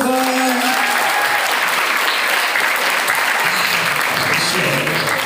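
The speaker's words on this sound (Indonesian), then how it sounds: "tepuk tangan untuk Dalia Rova" Audience applause at a motivational seminar for Islamic boarding school students in Banten: dense, steady clapping from a large crowd that fills the whole stretch, with a voice briefly audible at the start.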